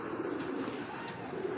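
A large female racing pigeon coos softly and continuously, a low murmuring throaty sound held close and steady throughout.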